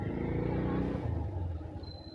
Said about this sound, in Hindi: पूरा ट्रैफिक है रे भाई।